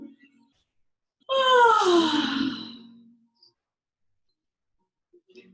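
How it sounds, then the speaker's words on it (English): A person yawns once during a yoga stretch, a single drawn-out voiced yawn that glides downward in pitch and fades over about two seconds, near and clear in a quiet room. "Open your mouth to yawn."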